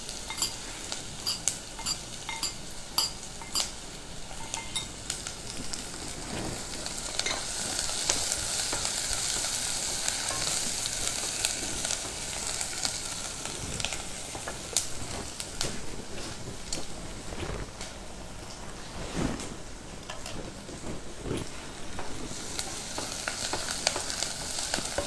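Onions sizzle steadily in hot oil in a pan while a utensil stirs and scrapes through them, with occasional clinks of metal against the pan, continuous and close for the whole stretch.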